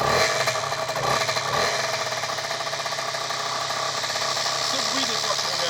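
A Beta RR dirt bike engine idles as it warms up after a carburettor adjustment, a steady rapid mechanical chatter with a dense knocking pulse that holds loud and close throughout, with speech-like sound mixed in.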